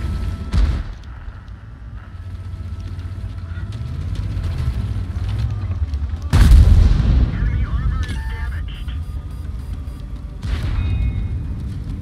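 World of Tanks artillery fire booms in a few heavy blasts, one near the start and a louder one midway, over a rumbling tank engine, with someone speaking at times.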